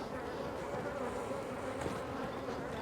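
Honeybees swarm around an open hive during a springtime inspection, producing a dense, steady buzzing drone heard close and continuously throughout.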